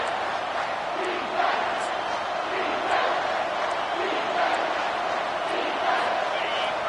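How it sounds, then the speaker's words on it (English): A packed stadium crowd at a Texas Longhorns versus TCU Horned Frogs college football game roars loudly and continuously, a dense wall of cheering and shouting that swells in waves across the whole stretch. "This crowd is tearing the lid off this place."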